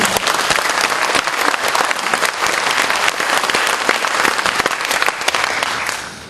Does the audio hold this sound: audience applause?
yes